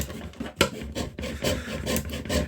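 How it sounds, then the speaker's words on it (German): Rough, raspy back-and-forth strokes of a hand saw cutting through material, close by, with uneven rhythm and brief pauses. "Da hilft nur noch die Säge."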